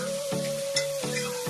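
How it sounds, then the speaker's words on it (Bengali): Onions frying in a pan, a soft continuous sizzle under a steady tonal hum, with a few short crackling pulses. "পেঁয়াজটা আমরা লাল লাল করে ভাজা ভাজা হবে"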